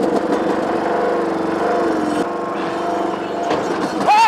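Small off-road lawnmower engine revving hard and steadily while the mower is stuck, loud and close with a rough buzzing drone that surges near the end.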